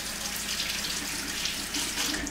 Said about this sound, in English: But my hands need to be washed.